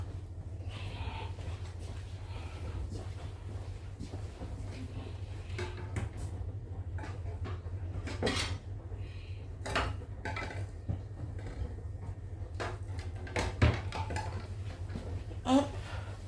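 Dishes and cutlery clink in a home kitchen as a plate is fetched from a cupboard, a series of short clatters and knocks over a steady low hum, with louder bumps toward the end.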